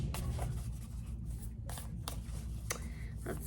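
An oracle card deck being shuffled by hand, giving soft riffling and brushing card noise with a few sharper flicks over a steady low background hum, close and fairly quiet.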